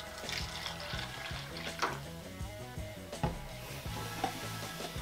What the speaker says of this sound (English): you think it's water till you open it up and it all just comes fizzing up